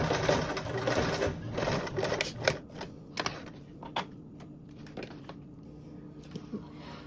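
A sewing machine bastes fabric backpack straps together with a 1/8 inch seam, sounding as a quick, fairly loud run of rapid stitching that breaks into short bursts and isolated clicks with pauses between.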